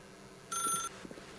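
A telephone in the video game The Stanley Parable gives a single short electronic ring burst, fairly faint, followed by a few soft low thuds.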